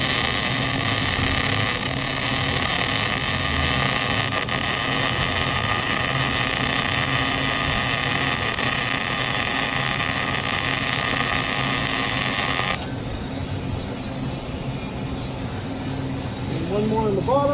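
Steady, loud crackling buzz of arc welding a fender onto an 18 ft flatbed trailer, a dense broadband sizzle running continuously for most of the clip, then cutting off abruptly near the end, leaving quieter background.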